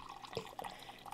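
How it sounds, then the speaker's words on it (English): Water runs from a refrigerator dispenser into a water bottle in a scary video game, a short quiet trickle with small drips and splashy gurgles. "we're just waiting for our water bottle to fill"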